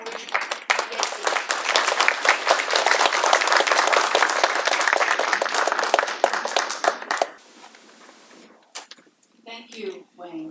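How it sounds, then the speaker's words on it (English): A panel audience at a domestic violence awareness event breaks into loud, sustained applause for about seven seconds, then it dies away and a voice begins speaking. "let's give a big round of applause to Jenny O'Donnell, our PhD."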